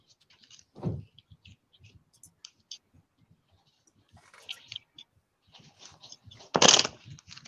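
Cards riffle and flutter in quick clicking bursts, with soft handling taps between shuffles and a louder rapid riffle near the end.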